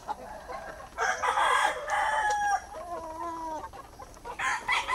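A favourite native stag rooster crows loudly and up close several times with rising, drawn-out calls, mixed with clucks in a Filipino backyard farm setting, with no speech.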